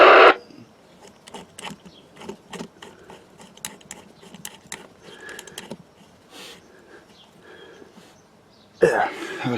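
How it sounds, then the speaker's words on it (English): Radio squelch noise breaks out as a van's antenna is disconnected: a crackly, buzzing stream of irregular clicks and static bursts at moderate level, with louder voice bursts at the start and end. "Now that noise you hear when I disconnect it, it has something to do with the tone squelch and things."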